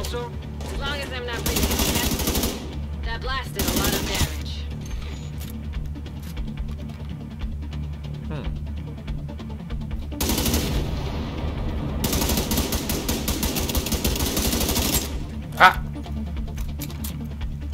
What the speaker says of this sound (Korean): 이 총소리 되게 괜찮네요